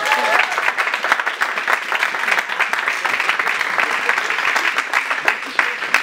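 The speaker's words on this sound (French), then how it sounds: "Applaudissements s'il vous plaît." An audience at a magician's show claps vigorously for several seconds, a dense, close burst of applause with voices faintly mixed in.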